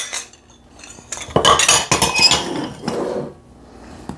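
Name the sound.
mixing dry ingredients in a bowl with a utensil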